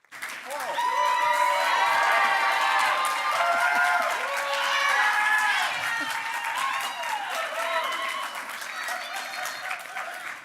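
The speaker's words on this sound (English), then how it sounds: "I keep telling you, I do this for applause." A live audience at a science comedy show claps and cheers loudly, rising quickly to a full roar with whoops and shouted voices, then gradually easing off toward the end.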